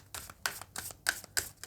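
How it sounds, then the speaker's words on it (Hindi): Tarot cards shuffled by hand in quick riffling bursts, four or five papery flutters in rapid succession, close and fairly soft. "final shuffle"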